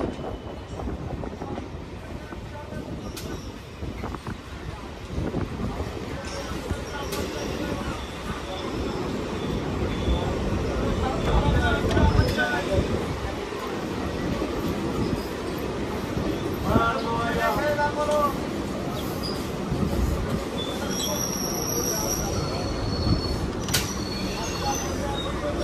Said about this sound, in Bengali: বন্ধুরা ট্রেন এখন চলে এলো হৃদয়পুর।